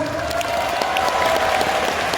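An audience at a seminar claps for a sustained stretch, a dense and fairly loud spread of many hands with no talk over it and a steady tone running through.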